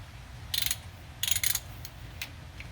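A hand ratchet with a half-inch socket loosening the differential cover bolts on a 2001 Ford Ranger 4x4: a few short, sharp clicking bursts spaced apart, close and clear, no talking.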